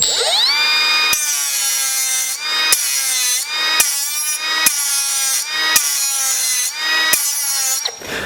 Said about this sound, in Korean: 3인치 그라인더로 파이프를 한번 잘라 보겠습니다